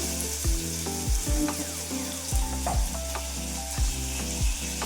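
Green chillies and onions fry in a pan for a prawn and cucumber curry, giving a steady close sizzle broken by repeated stirring scrapes and knocks, with no voices.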